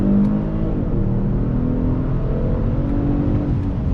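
A 2020 Genesis G70 3.3T sport sedan accelerates in second gear under throttle, its engine giving a steady rising drone heard from inside the cabin for several seconds without a break.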